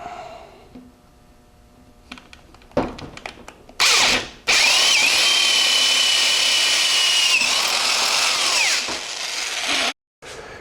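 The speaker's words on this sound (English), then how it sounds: "put a 1/4-inch drill bit in our drill motor" A power drill with a 1/4-inch bit whines at high speed in a long, steady run through a Powerglide drag race transmission case, with brief starts and stops before and a pause near the end.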